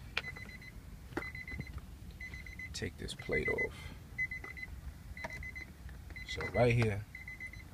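Repeated short electronic beeps from a 2004 Nissan Maxima sound at a steady rhythm under someone talking during radio removal, with occasional clatter and handling noises.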